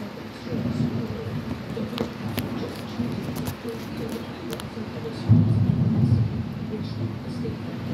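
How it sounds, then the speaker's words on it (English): A heavy thunderstorm over a city fills the air with loud, continuous rumbling thunder and rain, swelling into a stronger roll partway through, with some crackling bursts. "This is what I call heavy lightning."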